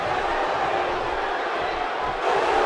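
Wrestling arena crowd cheering in a tag team match from a video game, a dense, loud, continuous roar of many voices filling the space without a break, swelling slightly near the end.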